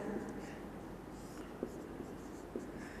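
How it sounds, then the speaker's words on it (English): Pen scratching as a vector triangle diagram is drawn during a physics lesson, a steady soft scraping with a few light taps, faint and close, with no talk over it. "now you can write the diagram"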